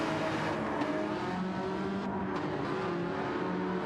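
Sim racing cars snarl through a steady, close engine drone, revs rising and dipping as they brake hard and accelerate out of a corner, with no talk over the whine.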